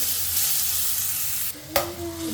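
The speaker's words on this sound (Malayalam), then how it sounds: "അതിലേക്ക് എണ്ണ ഒഴിച്ചതിന് ശേഷം നമ്മൾ ക്രഷ് ചെയ്ത് വെച്ചിരിക്കുന്ന നമ്മളുടെ ആ വെളുത്തുള്ളി സവാള പിന്നെ മുളക് അതങ്ങോട്ട് കൊടുക്കുക" Crushed garlic, onion and chili fry in oil with a steady, close hiss and sizzle, broken near the end by a metallic clank as the pan is stirred. No one speaks.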